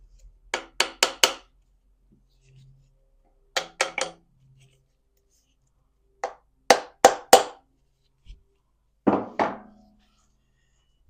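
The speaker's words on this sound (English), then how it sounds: "I'm sure y'all can see that that is a brass hammer." Sharp metallic taps from a brass hammer striking engine rod bolts on a small-block Chevy dump truck engine, in quick bursts of three or four, separated by pauses, close and clear.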